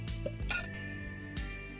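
A bright bell ding sounds twice for a subscribe bell icon, two crisp chimes with a short ringing tail, alone over a quiet background.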